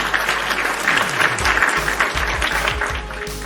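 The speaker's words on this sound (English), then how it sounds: "Round of applause." Steady, dense crowd applause on a pro wrestling podcast, loud and continuous for the whole few seconds with no voices over it.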